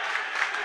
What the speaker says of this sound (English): Camera side cheering that call